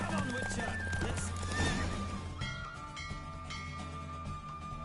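Roach, a horse in The Witcher 3, neighs loudly over rapid galloping hooves during a race, then the hoofbeats run on under game ambience and a voice.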